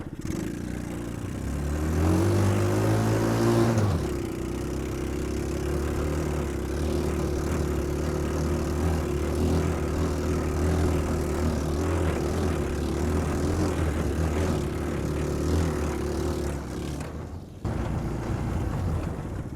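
Small engine of a mini Jeep straining as it drives up a hill flat out in second gear, a loud steady buzzing drone that holds for about fifteen seconds and then cuts off.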